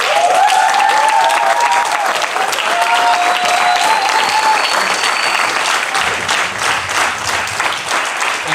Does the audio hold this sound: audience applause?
yes